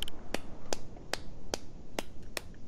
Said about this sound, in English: Oh my god, you can just infinitely clap.